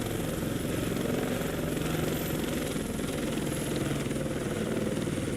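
A US helicopter in the Vietnam-era game Heliborne flies back to base, its rotor and engine making a steady, close, continuous drone with a faint high whine. No one talks over it.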